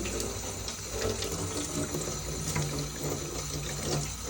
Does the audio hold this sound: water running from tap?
yes